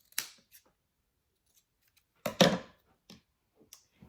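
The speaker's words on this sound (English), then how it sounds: "cut the loose threads, and then just cut the seams, clip them kind of close" Fabric scissors clip loose threads and seam allowances on a sewn pet ramp cover, a few distinct close snips separated by quiet pauses, with a cluster of louder cuts in the middle.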